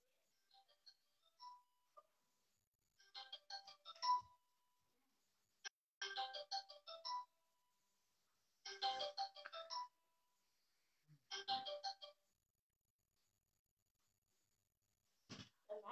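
A phone ringtone plays in short repeating bursts, each about a second long, with pauses between them, fairly faint in a quiet room. The call goes unanswered, and there is no talking.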